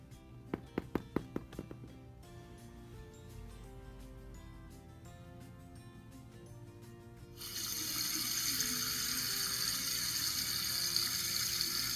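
A few light plastic clicks and taps come first, then water from a toy sink tap starts and runs as a steady, moderately loud stream, continuing to the end.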